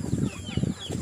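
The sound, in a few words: chickens clucking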